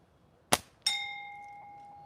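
A slingshot releases with a sharp snap, and a split second later its shot strikes a metal school bell, which gives one bright clang and rings on, slowly fading, in quiet surroundings.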